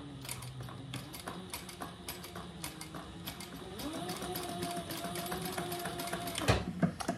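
Close, steady whirring of a sewing machine stitching a clutch bag, with rapid ticking stitch pulses running continuously and growing slightly louder toward the end, where a couple of sharper knocks sound.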